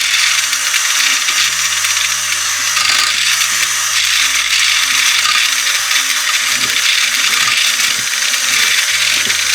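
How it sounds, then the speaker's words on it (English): Toy kitchen mixer stirring cookie dough, a steady buzzing whir with rattling plastic clicks running for several seconds, loud and close, alone without voices. "Let's get the mixer. Let's mix it up."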